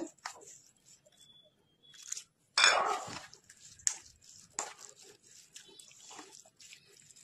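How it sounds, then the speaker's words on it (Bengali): Grated potato, semolina and sour yogurt worked together with splashes of water in a bowl, giving scattered close clinks, scrapes and squelchy crunches in irregular bursts, one louder scraping stretch in the middle and quiet gaps between. "অল্প অল্প জল দিয়ে আমি এটা মাখিয়ে নেব"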